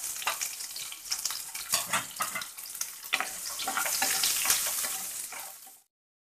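Chopped onions frying in a pan of hot oil with mustard seeds and cumin, a bright crackling sizzle with stirring scrapes and bursts, ending abruptly.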